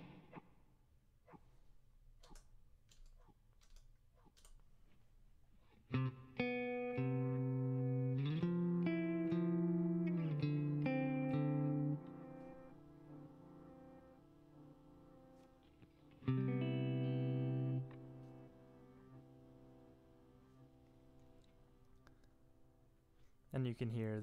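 An electric guitar plays through a pedalboard with a reverse delay effect sitting low beneath the dry signal, with picked notes and sustained chords in a couple of bursts separated by quieter stretches.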